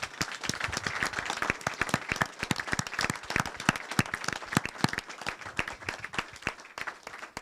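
A church congregation bursts into sustained applause, a dense, even patter of many hands clapping together at close range for several seconds without a break.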